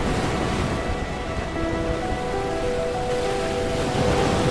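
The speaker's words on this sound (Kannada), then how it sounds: "ಅಲೆಗಳ ಸದ್ಮನು ಕೇಳ್ತಾ ಇದ್ರೆ ಜೋರಾಗಿ ಹಾಡಬೇಕು ಅನ್ಸುತ್ತೆ" Steady broadband wash of sea waves breaking on a beach, a continuous roar with no distinct single crashes, fairly loud and even throughout.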